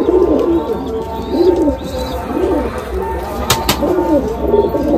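Madrasi pigeons coo in a loud, steady run of low rounded calls close by, with faint chirps and a couple of sharp clicks mixed in.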